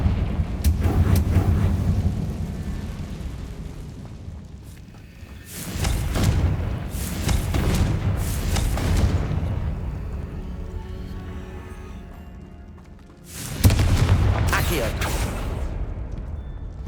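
Fiery explosive spell blasts from Hogwarts Legacy, three or four heavy booming bursts with rumbling low tails, separated by quieter gaps, loud and close.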